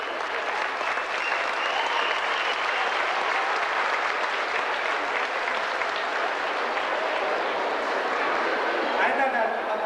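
Sustained audience applause at a Tamil association convention in Somerset, New Jersey, a large hall crowd clapping steadily and densely for a long stretch, broad and even throughout.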